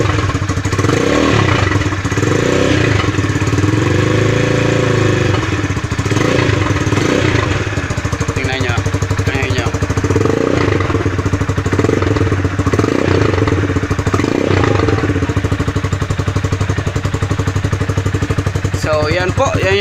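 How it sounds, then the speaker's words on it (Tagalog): A Rusi Classic 250 motorcycle with a modified stock muffler runs loud and close for the whole stretch, its deep exhaust throbbing through repeated revs and easing back between them. "modified na stock na muffler ng ating Rusi Classic 250"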